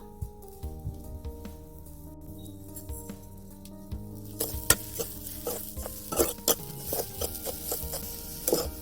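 Grated coconut and sugar fry in a wok with soft sizzling, while a utensil scrapes and taps against the pan in irregular close strokes that grow busier toward the end.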